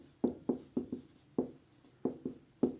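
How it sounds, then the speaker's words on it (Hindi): Chalk strokes on a board during a physics lesson, a quick run of about ten close, crisp taps and scratches in an uneven rhythm, with no talking. "खींची गई यहाँ लिख लेंगे"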